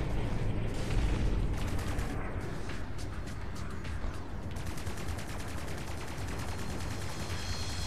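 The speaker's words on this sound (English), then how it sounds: "you can also use the plasma gun" Plasma gun fire in the space combat game Strike Suit Zero: a dense, steady stream of rapid energy shots, loud and close, running continuously over a rumbling battle backdrop.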